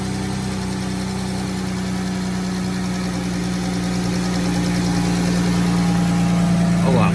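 A 2014 Dodge Charger engine idles just after starting, a steady close, low growling hum with a faint knocking texture, swelling slightly louder toward the end.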